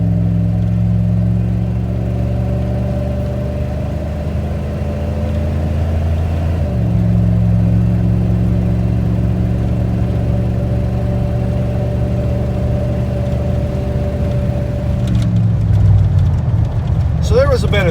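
Steady engine drone from a 1995 Dodge Ram V8 with Thrush welded mufflers cruising on a highway, a continuous low rumble with a slight pitch shift midway as throttle changes, loud and close throughout.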